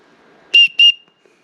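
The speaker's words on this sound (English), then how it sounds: "and then a whistle." A small plastic survival-kit whistle from a budget survival pack gives two short, shrill, piercing blasts in quick succession, loud and close, with near silence around them.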